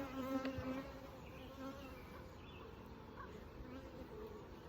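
Honey bees buzz steadily around an open hive frame while a nuc is installed in West Virginia, a continuous close, moderately loud droning hum with no talking.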